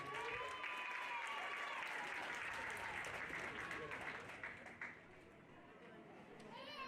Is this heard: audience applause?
yes